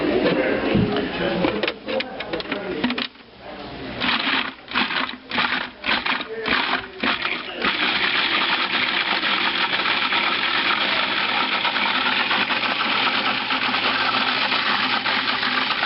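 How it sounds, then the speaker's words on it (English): A blender purees a sour cream sauce for prime rib. It begins with loud, uneven pulsing whirs and choppy bursts, then settles into a steady, continuous high whine. The motor is close and dominates throughout. "let's just puree that and see what it looks like."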